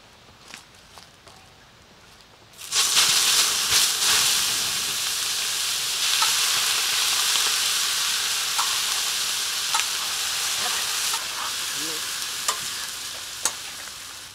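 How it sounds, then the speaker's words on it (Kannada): Minced meat keema hits hot oil in a village cooking pan and breaks into a loud, steady sizzle after a quieter start, holding strong with occasional stirring clinks. "ಕೈಮಾ ಫ್ರೈ ಮಾಡ್ಕೊಳೋಣ ಆಮ್ಯಾಗ ಮಸಾಲೆ ಹಾಕೋಣ ಒಳ್ಳೆ ಎಣ್ಣೆ"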